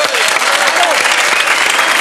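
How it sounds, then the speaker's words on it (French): Loud, close studio audience applause on a French television game show, dense, even clapping throughout with a voice faintly over it. "On l'applaudit."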